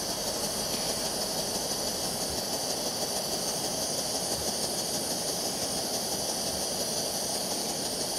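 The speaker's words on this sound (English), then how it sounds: "It is boiling, but it's not at a full rolling boil yet." An MSR WhisperLite Internationale backpacking stove roars with a steady, close, unbroken hiss while heating a pot of water to a boil.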